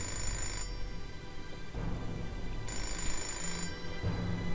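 A telephone rings in the video game Fahrenheit: bursts of electronic ringing that repeat at a steady rhythm over a low background hum.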